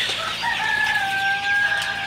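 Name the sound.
chickens and rooster crowing in a poultry shed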